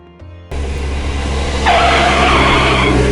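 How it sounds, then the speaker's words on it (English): Loud tyre-squeal skid over a steady roaring engine accompanies a Corgi die-cast toy car with whizz wheels sliding round into a skid; the screech sharpens partway through and continues to the end. "There we go, slide round into a skid."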